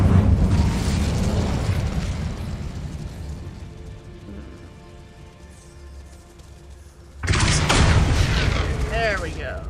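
An Incendio fire spell in Hogwarts Legacy erupts as a loud, booming burst that rolls out and fades. A second forceful blast hits near the end, with game sounds underneath.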